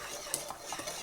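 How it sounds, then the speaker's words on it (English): A spoon scrapes and stirs a thick parfait mixture in a pot, giving a brief, soft run of close scraping with a few light clinks. "I got to stir this"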